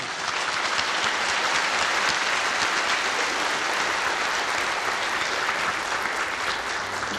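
An audience at a sustainable development lecture session gives a big, steady round of applause to thank the speakers, dense clapping holding evenly throughout.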